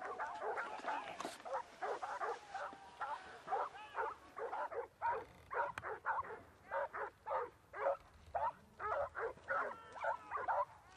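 Hunting dogs bark steadily during a wild boar hunt in vineyards, a long run of rapid, rhythmic barks and yips at mid distance, continuous for many seconds with no talk over them.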